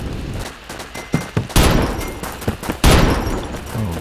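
Gunfire in the Bullet Force shooter game: repeated bursts of shots and thumping impacts, loud and close, in an irregular rhythm with a heavier volley near the middle and another toward the end.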